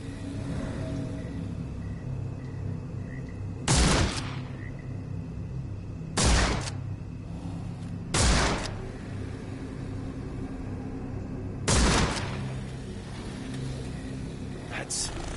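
Rifle shots ring out in the Sherlock Holmes: The Awakened video game, four loud sharp cracks spaced irregularly over a steady low ambient rumble of a swampy scene.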